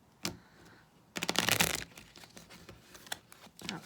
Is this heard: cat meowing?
no